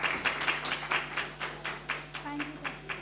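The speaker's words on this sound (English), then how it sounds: "Huge round of applause for her" Audience applause at a startup showcase after a speaker's pitch, a steady run of many hands clapping at close range with a low hum beneath, lasting a few seconds.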